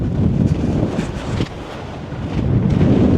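Loud wind gusting over a small hilltop near Las Vegas, a continuous roaring buffet on the microphone that dips briefly midway and then surges back, with no voices.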